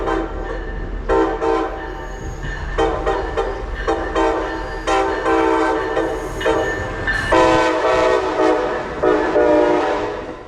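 Amtrak Vermonter train 57 passes westbound on Track 2 near South Norwalk, sounding a long, playful horn show of repeated short and sustained blasts over the close rumble and clatter of the passing cars.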